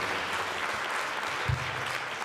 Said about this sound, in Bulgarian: Вашите силни аплодисменти за трио възрожденци